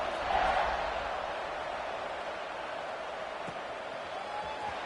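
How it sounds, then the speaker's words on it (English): A football stadium crowd buzzes steadily after a score, a continuous broad murmur with a slight swell at the start and a few faint thumps, no clear speech on top. "this crowd is buzzing after that last score"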